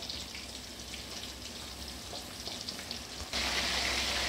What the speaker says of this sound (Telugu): కొద్దిగా ఆయిల్ అట్లా ఫ్రై చేసేసుకోవాలి.